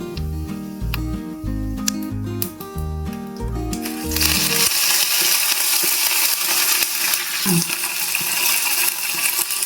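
Fennel seeds and curry leaves hit hot oil for a pepper chicken fry, bursting into a loud, steady sizzle halfway through after music fades out; the crackle then holds alone to the end.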